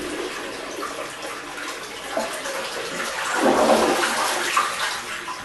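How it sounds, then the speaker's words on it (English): A Toto Neorest 500 toilet flushes while the handle is held down to drain the tank, a steady close rush of water that swells louder midway with gurgling surges, heard alone without talk. "So first thing we do is we flush it."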